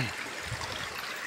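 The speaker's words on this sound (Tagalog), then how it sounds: "Linis ng sapa dito oh." Clear creek water flowing steadily in a soft continuous babble and trickle, faint and close, with no voices.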